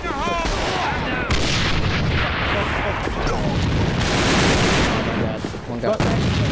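A loud grenade blast in the video game A.V.A, mixed with continuous gunfire and booming, dense and close throughout, with players talking over the din.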